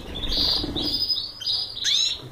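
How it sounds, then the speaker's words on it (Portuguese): Belgian canaries chirp in bright, high trills and short tweets, close and clear, in quick overlapping bursts that run without pause. "Aqui tem mais alguns canários."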